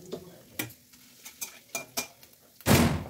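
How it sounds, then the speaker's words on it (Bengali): Cumin and dried chillies go into hot oil left from frying fish, with a spatula tapping the pan in quick, separate clicks. A sudden loud sizzle bursts up close near the end. "এবার এর মধ্যে দিয়ে দেবো জিরে, শুকনো লঙ্কা ফোড়ন"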